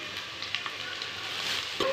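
Onions with dried red chillies and kasuri methi fry in a pan, giving a soft, continuous hiss with a few faint taps, close but quiet, ending in a brief clink.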